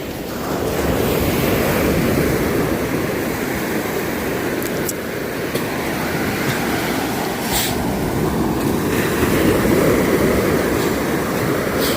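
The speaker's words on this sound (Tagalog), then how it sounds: "Kalma sa laot, pero sa gilid malalaki yung bagsak ng alon." Steady, loud roar of sea waves crashing and washing on the shore, with wind buffeting the microphone throughout; the open sea is calm but the waves break big at the shoreline.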